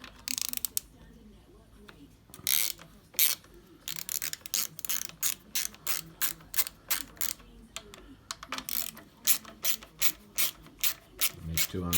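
A ratchet undoes bolts while the rear peg comes off a 1987 Honda CBR600F motorcycle. Close, loud bursts of rapid clicking repeat in short runs, with brief pauses between strokes.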